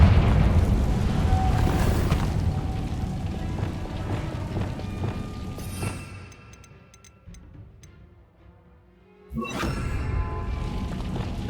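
A Confringo blasting spell in Hogwarts Legacy bursts with a rumbling boom that decays into near silence, followed by a second sharp blast of spell impact.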